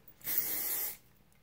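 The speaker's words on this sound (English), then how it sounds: "spray with your hairspray that is a necessity" A single steady hairspray burst hisses close by for under a second, broad and airy, then cuts off cleanly into quiet.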